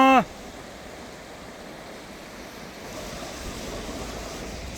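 River water flowing and rushing in a steady broadband wash near a village, continuous and fairly loud, slightly swelling toward the end, with a brief sharp sound at the very start.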